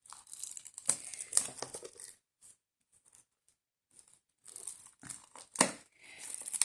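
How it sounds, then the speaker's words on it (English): Plastic wrapping crinkles and rips as it is torn off a deck of oracle cards, coming in close, loud bursts of crackling separated by a stretch of near silence. "Can we get this plastic coating off?"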